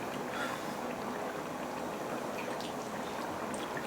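Coconut milk rice simmering in a cooking pot, giving a steady, continuous bubbling hiss at low level with no talk.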